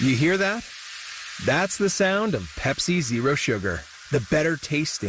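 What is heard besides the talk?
fizzing Pepsi Zero Sugar cola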